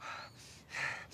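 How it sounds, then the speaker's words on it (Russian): A person breathes in and out deeply while lying on their back, two close, soft, airy breaths with a brief pause between them. "Дыши глубже."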